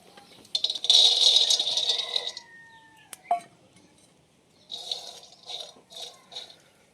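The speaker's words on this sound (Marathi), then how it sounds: "आता कढई चुली ठेवून जरा मी शेंगदाणा भाजून घेणार आहे" Peanuts roasting in a kadhai on a wood-fired stove, scraped and tossed with a spatula, giving close rattling and scraping bursts separated by brief metallic clinks and quiet gaps.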